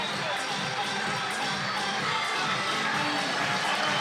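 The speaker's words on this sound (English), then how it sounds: "listen to this crowd, it's so noisy here in Kranj" A large, noisy crowd cheers and shouts continuously at a climbing World Cup lead final in Kranj, Slovenia, a dense roar holding steady throughout.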